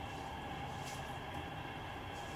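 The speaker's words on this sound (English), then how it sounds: "train going past straight away" A train passing by outdoors, a steady rumbling roar with faint rail screech, continuous and moderately distant, no voices.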